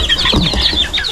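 Chicks and chickens clucking close by on a Tennessee homestead, a quick flurry of short, high peeping calls, loud and alone.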